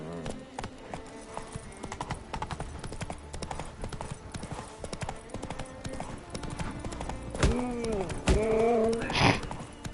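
Rhythmic hoofbeats of the horse Roach galloping in The Witcher 3 video game, with steady clip-clop throughout, then a few sharp tonal game sounds near the end.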